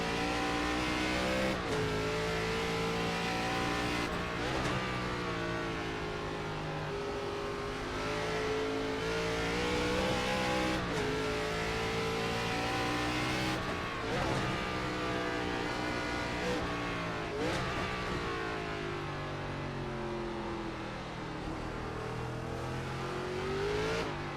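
A solid-axle race car's engine in iRacing drones and revs continuously, the pitch rising and falling through gear changes and throttle, loud and close with no talk over it.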